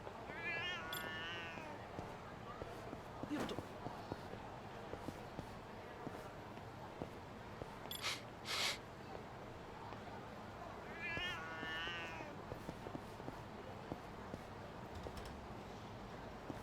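A cat in the Lost Judgment video game meows twice, spaced well apart, over a busy ambient game soundscape with brief clicks and a voice in the background.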